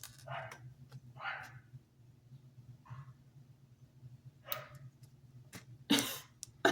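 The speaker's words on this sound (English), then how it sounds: "that's a fucking dog" A dog barks several times at a distance, short faint bursts spaced irregularly over a steady low background hum.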